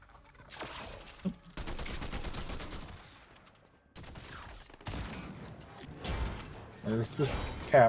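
War Machine's automatic turret firing in Fortnite, bursts of rapid gunfire and mechanical clatter coming in uneven waves, with people talking over them.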